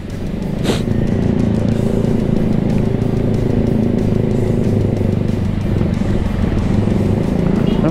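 Cars and motorcycles crawling in a long traffic jam on a cross-country road, giving a continuous close engine rumble with a brief hiss early on; a voice can be heard faintly under the noise.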